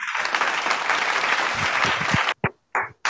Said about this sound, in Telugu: పిల్లలు మీరు అందరూ కూడా క్లాప్స్ ఇవ్వండి